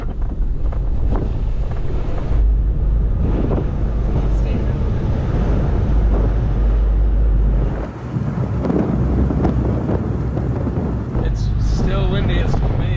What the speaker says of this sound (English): Wow, it is windy down here.